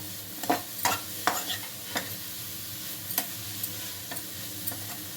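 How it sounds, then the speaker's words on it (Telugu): Egg carrot fry stirred in a pan: sizzling under repeated scraping strokes of a spoon against the pan, close and irregular, with several sharper clicks standing out. "ఒకసారి మళ్ళీ కలుపుకోవాలి, అడుగు మాడకుండా."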